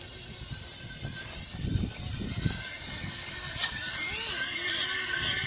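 A motor driven by a Pyro32-45 ESC runs at full throttle, giving a steady, fairly loud whir and mechanical rattle that builds slightly toward the end, with no voices.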